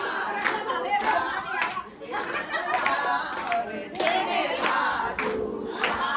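Audience at a Teej celebration program clapping in a steady, dense wash of applause, with crowd voices and cheering mixed in throughout.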